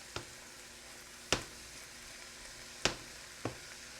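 Low-carb creamy cauliflower mushroom risotto cooks in a pan with a steady, even sizzle, broken by a few sharp stirring clacks of a utensil against the pan, close and fairly quiet.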